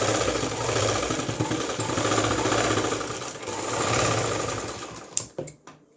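An electric sewing machine stitches lining fabric, its fast, even mechanical chatter running close and steady for about five seconds before it stops with a few sharp clicks.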